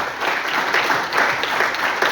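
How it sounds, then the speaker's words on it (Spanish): A church congregation claps loudly and steadily throughout, giving a strong round of applause with no voices standing out. "primero yo quiero que ustedes me le tributen un fuerte aplauso al Señor"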